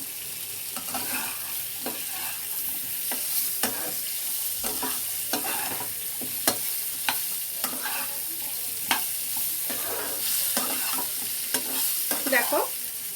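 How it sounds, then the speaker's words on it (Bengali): Potatoes frying in a pan for a vegetarian dish, with a steady soft sizzle broken by repeated sharp scraping strokes of a spatula stirring them, close and without talk. "দেখো ভাজা ভাজা হয়ে গেছে আলুগুলো।"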